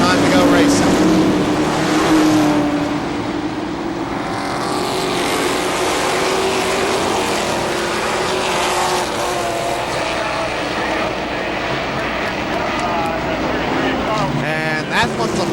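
Late model race cars at KilKare Speedway roar off in a false start, several engines blaring loud and continuous as the pack rises and sweeps past, with a brief rattle near the end.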